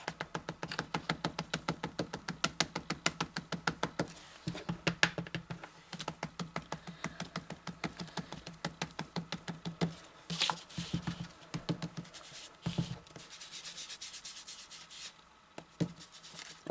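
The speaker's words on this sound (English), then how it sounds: "So here I can actually rub it a little bit harder." Paper is rubbed firmly during collage stamping, a fast rhythmic scratchy patter of strokes with short pauses, close and fairly quiet.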